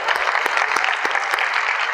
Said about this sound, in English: Come on, give her a round of applause.